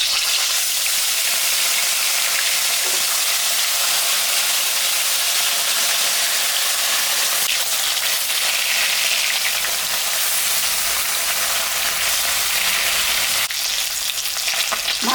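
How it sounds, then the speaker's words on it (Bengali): Large bata fish fry in hot oil in a wok, producing a loud, continuous sizzle and bubbling hiss with a few brief surges as pieces shift. No one speaks. "এখন মাছটা আমি ভাজবো।"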